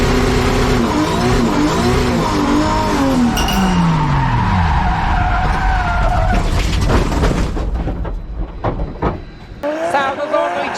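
A drifting car revs hard with a loud screeching tire skid and a falling engine pitch, then clatters and thuds as it hits a wall, while a race commentator talks over the action.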